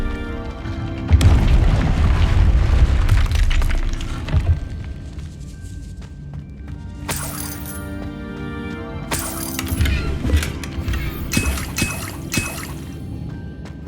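A Confringo fire spell explodes in the Hogwarts Legacy video game. A deep booming blast rolls for a few seconds, then shattering debris and crackling impacts follow with sharp bursts of magic effects.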